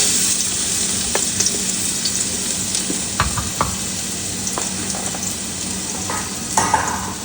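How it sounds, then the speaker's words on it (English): Garlic sizzling in hot oil in a pan for steak and wine spaghetti, a steady loud frying hiss with occasional knocks and scrapes of stirring, close up and without speech. "Just go ahead, add our"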